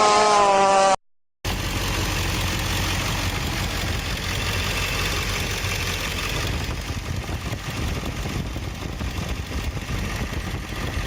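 A 7.3 Super Duty truck engine runs at a steady, loud idle right after a short burst of hum and a brief gap, its low rumble continuing unbroken with no talking.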